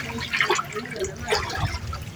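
Floodwater from a typhoon rushes and churns steadily into a house with bubbling and splashing, and a voice is faintly audible in the background.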